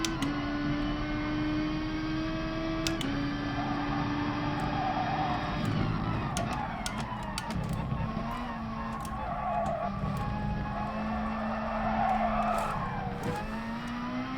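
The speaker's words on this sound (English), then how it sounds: "See how the wheel spin comes out there" A car in Gran Turismo Sport spins its wheels, with a steady engine drone and the tires squealing and skidding continuously, and the pitch shifting as it accelerates.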